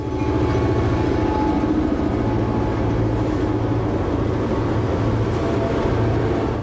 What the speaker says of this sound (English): The black smoke and deep rumble of the prime movers tell us that these locomotives are working hard.